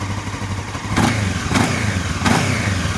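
A Honda CB500 motorcycle engine idles after carburetor adjustment, a steady low rumble close by with a few brief rises in the idle, and no talk.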